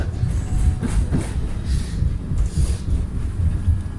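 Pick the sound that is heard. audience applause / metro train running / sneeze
metro train running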